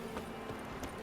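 Faint clip-clop of a horse's hooves approaching in The Witcher 3, a few soft, evenly spaced hoof beats over a steady low background hum.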